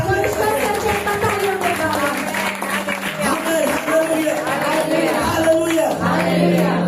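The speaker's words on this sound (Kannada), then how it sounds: "ಒಂದು ಸಾರಿ ಚಪ್ಪಾಳೆ ತಟ್ಟಿ" Church congregation clapping together during a worship service: a dense wash of hand claps and crowd noise carries on for several seconds, with voices and shouts mixed in.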